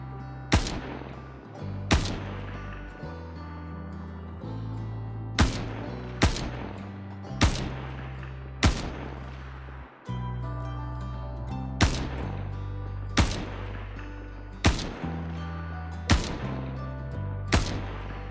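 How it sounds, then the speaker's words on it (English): Single semi-automatic shots from the P4 assault rifle in Star Citizen, a dozen or so sharp loud cracks spaced a second or more apart with reverberant tails over steady background music. "Semi-automatic fire for this weapon is very accurate, especially so if you have a compensator fitted"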